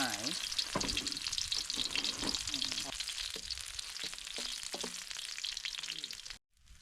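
Garlic frying in oil in a pot at a camp cookout, a dense crackling sizzle with stirring scrapes and clinks, close and steady before cutting off abruptly near the end.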